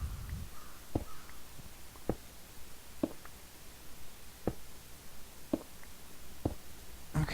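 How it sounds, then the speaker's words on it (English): A loud bird calls repeatedly outside an open window, sharp short cries spaced about a second apart over a low, steady background hum. "That is one loud ass bird."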